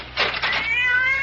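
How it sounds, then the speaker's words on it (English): A cat gives a loud, drawn-out meow close by, starting rough and breaking into a wavering, whining cry that trails off. "that damn cat! I've forgotten about her."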